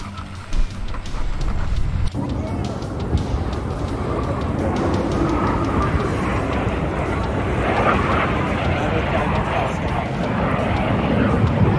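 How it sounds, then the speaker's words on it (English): DHC-3 aircraft taxiing through thick snow, its engine droning loud and steady throughout with a broad rumbling roar that swells slightly toward the end. "This DHC-3 might just be dreaming of an all-wheel drive upgrade right about now, as it struggles to taxi through the thick blanket of snow."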